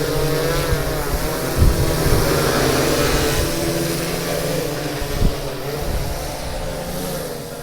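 A steady motorized drone hum with rotor-like buzzing from an agricultural spray drone spraying crop fields, fairly loud and continuous, with faint thumps now and then.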